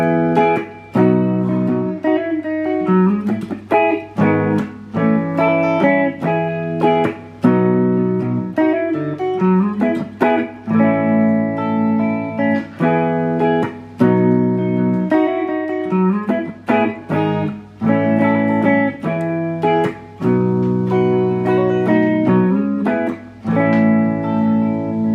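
Guitar, likely an effects-processed electric with reverb, playing the verse of a song: chords mixed with melodic fills in a steady, flowing rhythm, loud and close, with no talking.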